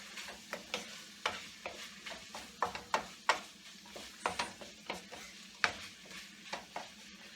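Minced chicken with green peas and fresh cilantro is tossed in a pan, producing a steady run of close, sharp spatula knocks and scrapes over a light sizzle, with no talking.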